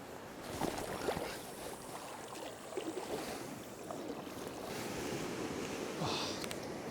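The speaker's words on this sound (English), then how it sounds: "See the waves breaking." Waves breaking on an offshore sandbar at a Northumberland beach, heard as a steady, fairly distant wash of surf mixed with wind noise, running continuously throughout with no talk.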